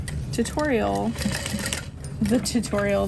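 Sewing machine running a base stitch while making a carry-all bag, a steady mechanical whir rising in two short bursts between quieter handling noises.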